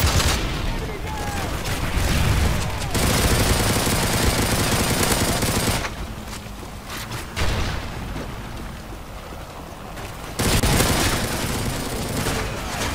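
Gunfire in the Call of Duty: Modern Warfare 3 multiplayer video game: loud, dense bursts of automatic fire that rattle on for seconds at a time, with brief lulls between volleys.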